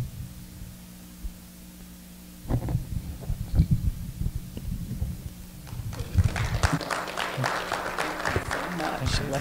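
Church audience at a community health awareness day applauding: a murmuring crowd noise rises, then dense clapping swells louder and fuller toward the end, with voices mixed in.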